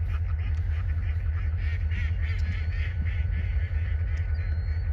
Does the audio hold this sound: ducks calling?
yes